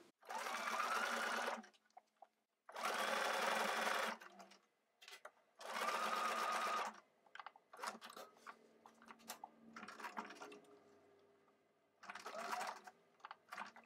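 Bursts of a sewing machine stitching microsuede fabric at a side seam and waistband, three long even runs followed by halting clicks and short taps, then one more brief run, close and clear without speech.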